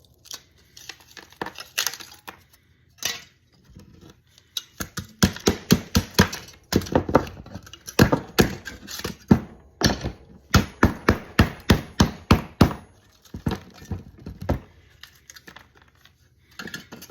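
Offset snips cut through paper-thin silver in a run of sharp, crisp metallic clicks and snaps, irregular at first and then rapid and rhythmic, close to the mic, with no talk.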